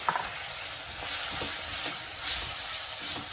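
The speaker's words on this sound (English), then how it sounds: "Adding the green peas." Frozen green peas sizzle in a hot pan as they are sautéed, a steady bright frying hiss with a few soft stirring scrapes.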